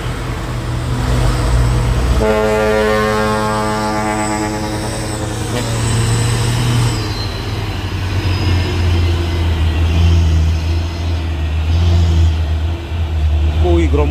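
A convoy of trucks climbs a hill at Bukit Kodok, loud engines droning and revving with rising gear tones as heavy vehicles pass close, while people talk over the traffic.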